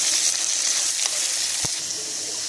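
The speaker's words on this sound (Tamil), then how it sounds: "நான் இப்போ அரைச்ச விழுதை ஆட் பண்ணிட்டேன். இப்போ இதை நம்ம கலரி விட்டுடலாம்." Ground spice paste frying in a pan, giving a loud continuous hiss and crackle up close with one brief knock partway through, and no talking.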